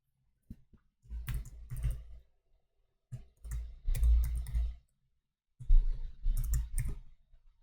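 Clicking and clattering in short bursts, close and fairly crisp, separated by silent gaps and sounding more like keyboard typing than single mouse clicks, with no voices.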